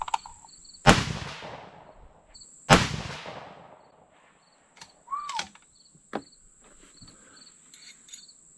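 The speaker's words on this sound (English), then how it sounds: "I'm gonna go ahead and shoot a 5-shot group with it." Two sharp rifle shots from a 6 Dasha, fired outdoors a couple of seconds apart, each cracking loudly and fading, over steady cricket chirping with a few faint knocks afterward.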